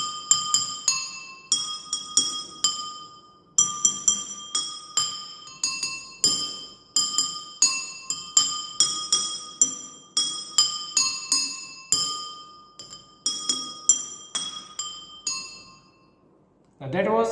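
Water-filled drinking glasses played like a xylophone, struck in a quick, uneven improvised run of bright ringing tones that hang briefly, fairly close and clear, with no talking over them.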